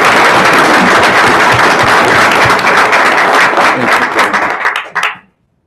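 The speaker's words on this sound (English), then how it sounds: "deserves a round of applause" Loud, dense applause from a crowd at a city council meeting, sustained for about five seconds before cutting off sharply near the end.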